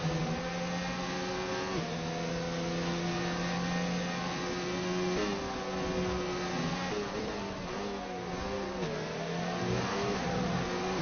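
Formula race car engines in the WSR Formula Euro Championship Japanese Grand Prix race game, a steady loud drone of several cars with pitch rising and falling through gear changes, no voices.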